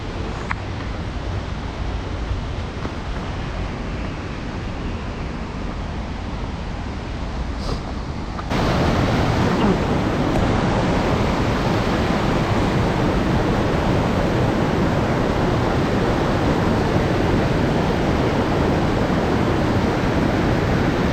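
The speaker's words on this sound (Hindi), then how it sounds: "आवाज़ भी वाटरफॉल की आ रही" A waterfall near Bir in Himachal Pradesh rushes in a dense, continuous roar that grows noticeably louder partway through and stays steady to the end, with no voices.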